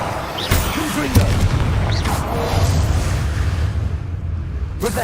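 Confringo blasting curse explosions in Hogwarts Legacy, deep booming bursts at intervals amid continuous combat rumble, with spell whooshes and a voice calling out in between.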